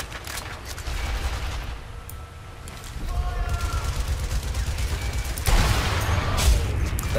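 Gunfire in a video game shooter: a few loud, sharp shots with booming tails break through steady background noise while a person talks over the action.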